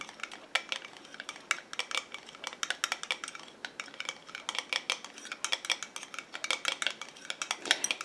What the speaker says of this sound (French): Je viens mélanger.